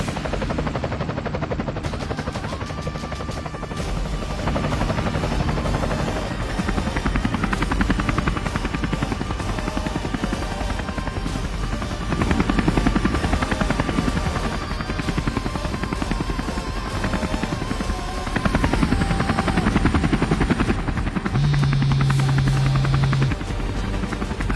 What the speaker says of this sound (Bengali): হ্যালো, স্যার, আপনার ঠিকানা হেলিকপ্টার চলে গেছে